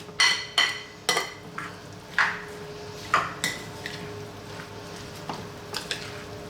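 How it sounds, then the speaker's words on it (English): A spoon mixes brown lentil salad dressed with lemon and olive oil in a bowl, giving a series of sharp, close clinks and scrapes against the bowl at an uneven rhythm over a quiet background. "One more mix and we're done."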